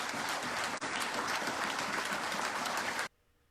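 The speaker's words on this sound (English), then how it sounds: "I wanted to let the applause play out" A large audience claps and cheers in a dense, sustained burst of applause that holds at full strength, briefly dips once, then cuts off abruptly into near silence.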